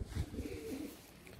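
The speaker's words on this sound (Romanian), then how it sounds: "vă prezint porumbelul cu seria" A female racing pigeon from 2020 gives a soft, low cooing murmur close by, brief and muffled over a faint rustling background, with no talking.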